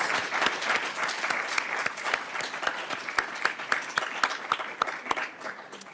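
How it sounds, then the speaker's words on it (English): Steady applause from an audience, dense overlapping claps holding at an even level throughout with no voices on top. "So I hope we can all give a round of applause to the organizers."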